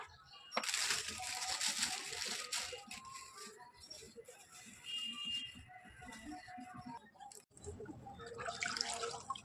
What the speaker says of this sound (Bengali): আমি মুখ ধুচ্ছি মুখ